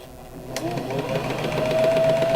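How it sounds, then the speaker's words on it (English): A new Janome HD 3000 sewing machine runs in one continuous stitching burst, a steady fast whir that starts abruptly and holds close and even to the end. "that sounds pretty fast"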